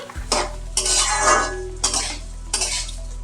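Gobindobhog rice, drained of water, being fried and stirred in a pan with a spoon scraping the metal in short repeated bursts, soft sizzling underneath, close and fairly loud with no talking.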